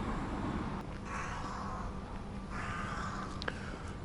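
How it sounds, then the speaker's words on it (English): Crows caw in Lincoln's Inn Fields, a small green space among London back streets, their calls rising over steady outdoor noise and traffic hum at moderate distance. "These crows have had all the rubbish out the bin"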